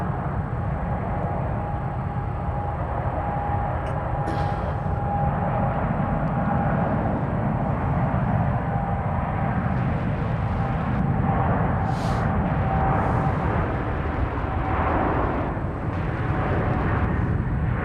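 A Boeing 747 airliner passes at San Francisco airport, a loud, steady broad roar of jet engines holding throughout with a faint whine, heard close and alone.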